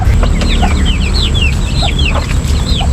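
Backyard ducks on a small farm call repeatedly in short rising chirps, close and steady over a constant low background rumble.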